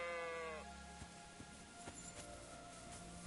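A single sheep bleats at the start of a Kingdom Come Deliverance 2 game scene, a short wavering call, then quieter ambient sounds with a few soft knocks follow.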